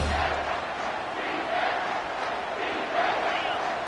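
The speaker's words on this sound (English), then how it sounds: "this crowd is tearing the lid off this place." A football stadium crowd on third down roars loudly and continuously, a dense wash of distant voices swelling and holding without pause.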